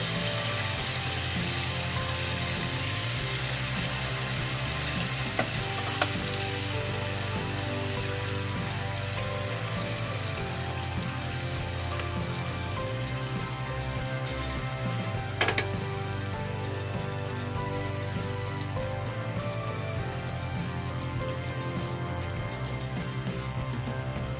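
Salmon fillets fry in a pan with a steady, even sizzle like light rain that hisses continuously, with faint pops and a couple of small clicks along the way.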